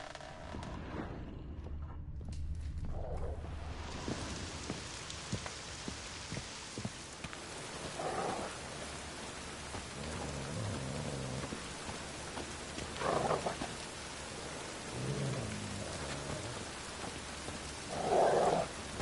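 Heavy rain pours steadily in a video game, a soft continuous wash of drops with a few brief louder splashes, quiet and without voices.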